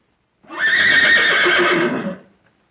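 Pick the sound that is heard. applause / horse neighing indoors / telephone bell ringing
horse neighing indoors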